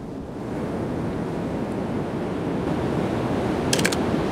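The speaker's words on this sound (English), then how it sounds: "I've got the surf swirling around that." Ocean surf swirls around boulders on a windy coast, a continuous loud wash of water and wind rumble with no pauses.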